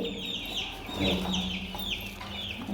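A hen kept indoors at home clucks repeatedly just after laying an egg, in quick rising calls that sound close and fairly loud, with faint room noise underneath.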